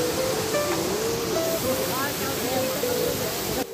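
The wide Sera Ella waterfall in Riverston, Sri Lanka, about 10 meters high and 30 meters wide, gives off a loud, constant roar of falling water, with faint voices and birdlike tones above it.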